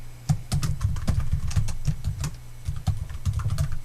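Typing on a computer keyboard while entering a chart title in a spreadsheet. Keys are struck in quick, uneven bursts with short pauses, close and clear, with no talking.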